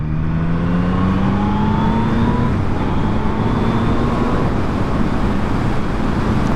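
A Yamaha MT-09 SP motorcycle on the road, its engine note rising steadily through the gears under loud, constant wind rush, heard from the rider's position.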